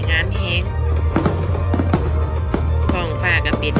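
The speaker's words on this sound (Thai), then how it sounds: "เรามองนี้เป็นการจุดพลุอยู่บน เรือกลางแม่น้ำเจ้าพระยาจ้ะ" Fireworks are launched from a boat on the Chao Phraya River during a New Year countdown at Asiatique. Repeated sharp pops and crackling bursts ring out at a moderate distance while people talk nearby.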